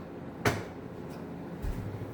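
A kitchen drawer is opened during a search, giving a sharp close knock followed by a softer wooden rumble and slide a second later, with quiet room tone between and no speech.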